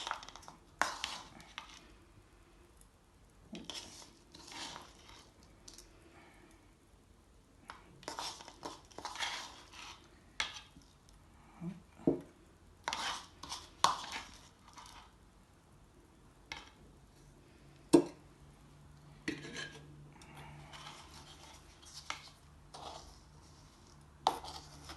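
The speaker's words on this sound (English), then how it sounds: "Now let's put the couscous in the top part" Couscous is tipped and scooped into the upper basket of a steamer, with scattered soft rustles, light clinks and taps of utensil against pot spread irregularly over a quiet background, close and without speech.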